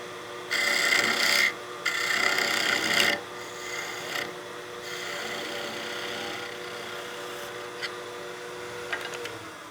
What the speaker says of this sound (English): And then we'll just hand sand the end there.